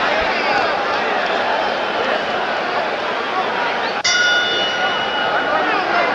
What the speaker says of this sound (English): Bell for round two.